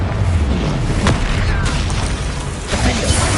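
Confringo blasting spell exploding during Hogwarts Legacy combat: a loud rumbling blast with crashing debris over dense, busy battle noise that continues throughout with little break.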